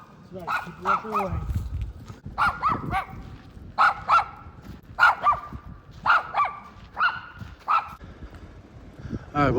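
Wild dogs bark repeatedly near the abandoned Pennsylvania Turnpike, a steady series of loud, close barks and yips in quick groups, with people talking in the background.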